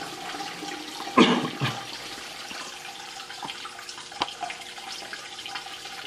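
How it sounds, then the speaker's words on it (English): Water rushes through the drain of a stream table model as its sea level is lowered, a brief gurgling surge near the start that fades into a steady low trickle. "I think you can hear the drain at work."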